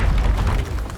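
Incendio fire spell cast in Hogwarts Legacy, a single short loud whooshing burst of flame with a low booming body, lasting about a second.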